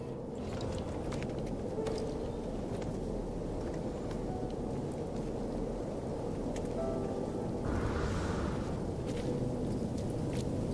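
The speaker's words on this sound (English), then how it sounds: "Weather update. Storm clearing." A storm in the No Man's Sky video game, with a dense, steady wash of rain and a low rumbling roar throughout, plus a brief brighter swell of thunder or wind partway through and no voices.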